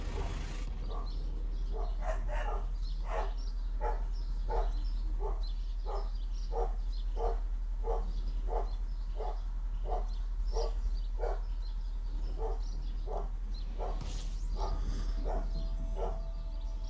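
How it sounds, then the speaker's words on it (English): Dogs bark outdoors in a steady run of repeated barks, roughly one or two per second and moderately distant, with birds faintly audible behind and a constant low hum underneath. "Oh, they're still out there barking."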